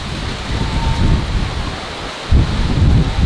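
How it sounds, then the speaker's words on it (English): Heavy rain driven by strong typhoon wind roars steadily across a rural Philippine province, a dense close wash of downpour with gusty surges, no voices. "the rain just came in, it's blowing straight at here!"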